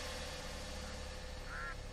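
Short duck quack from a video game, a brief nasal call rising over a steady low hum of game ambience.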